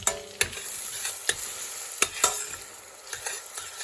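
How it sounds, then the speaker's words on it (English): Vegetable curry being stirred in a pan: spoon scrapes and clacks at irregular intervals over a steady sizzle, close and clear, with no voices. "give that a nice stir"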